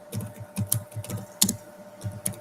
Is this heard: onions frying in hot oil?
no